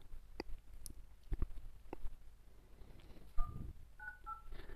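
Keypad dial tones sound from a phone's dialer app on the Pixel Air OS Android 12 custom ROM for a Poco X3 NFC. The tones are short and spaced apart, each a clear pitched beep, mixed with faint taps and clicks at low volume.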